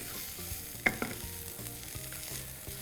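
Finely chopped carrots, cabbage and beans are stir-fried quickly for veg fried rice, a close, steady sizzle with a few sharp clinks of a utensil against the pan and no voices.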